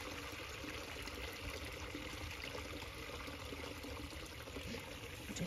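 Continuous splashing and trickling of a small, clear stream spilling over rocks as a small waterfall on a farm, steady and even, with no voices.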